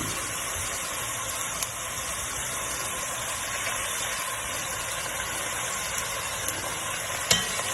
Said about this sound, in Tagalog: Get all your beef and put it in the pan.